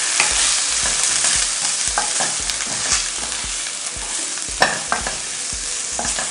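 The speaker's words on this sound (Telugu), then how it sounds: "ఇప్పుడు అన్నీ కలిపి బాగా ఫ్రై చేసుకోవాలి" Coriander powder and ginger garlic paste fry in a pan with a loud, close sizzle, while a utensil scrapes and stirs in regular strokes and one sharper knock stands out near the end.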